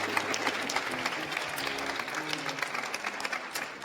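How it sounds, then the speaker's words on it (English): A conference audience claps steadily and loudly throughout, dense sustained applause with a few voices faintly mixed in. "big round of applause for Yvonne, my lovely assistant today."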